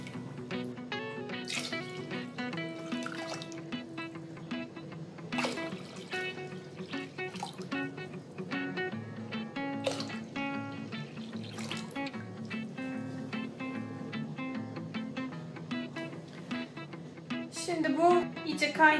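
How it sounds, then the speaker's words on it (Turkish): Steady splashing of two litres of water poured into a pot of sugar for lokum syrup, lasting many seconds, with scattered clinks and a burble that grows louder toward the end. "Üzerine 2 litre su döküyorum."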